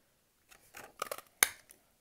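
A 1.5 inch circle punch cutting out a stamped paper piece gives a few soft clicks and crunches that build to one sharp snap near the end, close and quiet, with no talking.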